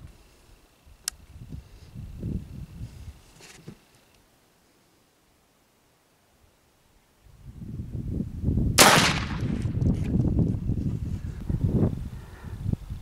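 Gunshots from a Thompson Center Maxi-Ball muzzleloader outdoors, with a couple of sharp cracks early, a quiet stretch, then a loud blast followed by rustling and handling noise.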